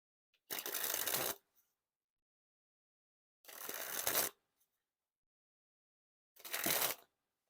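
Dan and Dave Brown Drifters playing cards are sprung from one hand to the other three times. Each is a sharp, close riffling flutter lasting about a second, with silent pauses between them.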